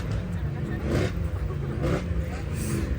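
Cars rev their engines at a car meet, with throaty bursts rising and falling over a steady idle and a crowd murmuring nearby.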